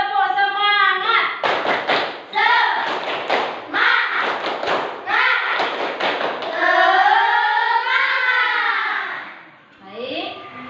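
Schoolchildren in a classroom perform a rhythmic spirit clap, sharp patterned clap bursts mixed with chanted voices of the kids, loud and close throughout.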